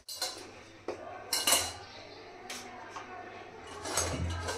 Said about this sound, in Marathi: 2 भांड्यांमध्ये मी आता हे डिवाइड करून घेते.